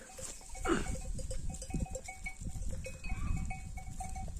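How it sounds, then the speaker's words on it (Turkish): A flock of sheep grazes in a large, cold open field, with a bleat standing out early, soft bell tinkles throughout and quiet rustling and movement in the background. "Koyunlarımız yayılıyor."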